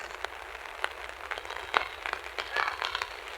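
Heavy typhoon rain patters and splashes steadily on surfaces outdoors, with scattered louder drops and a gurgle of running water in a flooded neighbourhood.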